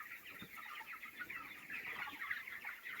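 Broiler chickens, 21-day-old birds, in a poultry farm shed, making a faint, steady chorus of overlapping clucks and chirps with no clear single call standing out.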